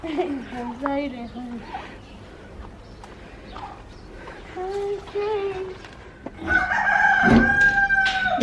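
Backyard chickens clucking and a rooster crowing at a campus composting site, several calls spread through the clip with a louder burst of crowing near the end over outdoor ambience and faint voices.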